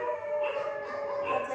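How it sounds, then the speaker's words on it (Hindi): Dogs howl in a long, wavering cry, faint and somewhat distant, with overlapping voices rising and falling through the brief stretch. "सालनी के नाम से कुत्ते भी भौंकने लगे"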